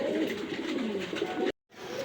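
A pair of pigeons kept for sale coos steadily in soft, deep rolling calls close up; the sound cuts out abruptly for a moment near the end, then resumes.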